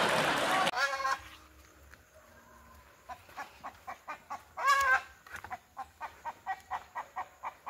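Rooster and hens on a village farm clucking in a run of short, evenly spaced calls, with a louder burst midway and a noisy rush at the start; nearby speech-like sounds mix in.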